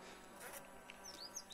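Honeybees buzz inside a wintering hive, checked by listening for signs of a troubled winter; a faint, steady hum with a few brief louder wingbeat whines rising over it.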